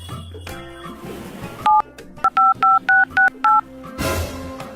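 A phone dials out with a quick run of seven short, evenly spaced keypad tones, set against soft background sound that swells at the end.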